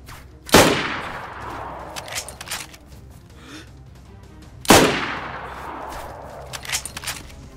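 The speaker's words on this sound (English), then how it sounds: "Someone is still taking shots at me." Two sharp, loud gunshots from the video game DayZ crack a few seconds apart, each trailing off in a long echoing decay, with faint scattered clicks and rustles in between.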